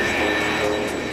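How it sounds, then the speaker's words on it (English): An A-10 jet with a big straight wing takes off, giving a steady, loud roar of engine noise that holds throughout with a whining high tone on top, alone without voices. "Once it hits the speed it wants to fly, it just lifts up and away."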